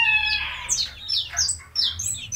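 Young silkie chicks give a few high, thin chirps and peeps in quick succession, close and clear over a quiet background.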